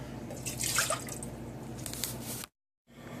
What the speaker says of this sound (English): First, you put in your water.